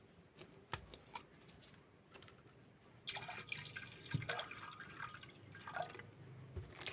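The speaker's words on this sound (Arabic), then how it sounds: "ننزل الاول كده بمية باردة" Cold water poured for a Ramadan khoshaf dessert, starting with faint scattered drips and then a fuller, steady splashing pour from about midway, close and fairly quiet with no talking.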